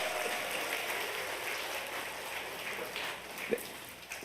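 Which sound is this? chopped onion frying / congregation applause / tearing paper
congregation applause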